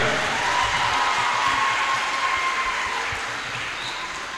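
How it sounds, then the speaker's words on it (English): Audience applause at a medical lab scientist oath-taking and induction ceremony: a steady, dense wash of clapping from a crowd that holds evenly for several seconds, then eases slightly toward the end, with no voices. "If you know, clap for them very well"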